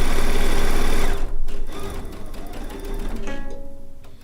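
A sewing machine runs steadily while stitching a seam with raw edges lined up, loud and continuous, easing slightly in speed toward the end.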